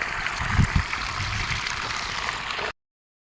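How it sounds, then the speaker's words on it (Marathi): Irrigation water rushes and gurgles steadily close by as it flows into an onion field, a continuous outdoor flow that cuts off abruptly near the end. "पाणी द्यायचं सुरू आहे कांद्याला"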